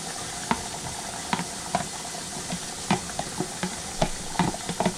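Canned corned beef and tender potatoes are stirred in a pot over a steady background sizzle, with repeated sharp scrapes and taps of the spoon at an irregular rhythm, close up and without speech.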